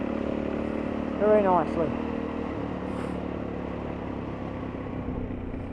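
Suzuki DRZ400 motorcycle engine droning steadily while riding, with a brief rising whine of revs near the start and someone speaking briefly over the engine.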